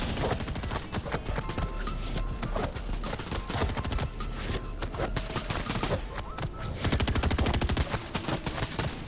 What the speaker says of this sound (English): They spend a lot of time shooting at each other for absolutely no reason at this point.